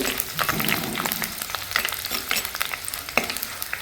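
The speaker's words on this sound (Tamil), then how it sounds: "இப்போ காஞ்ச மிளகாயை போட்டுரும்." Steady crackling sizzle of dried red chillies frying in hot oil, with scraping stirs from a spoon throughout.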